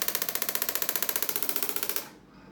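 PulseWave device pressed against the feet, switching on under pressure with a rapid, regular tapping pulse, about ten beats per second and fairly close, then cutting off abruptly near the end.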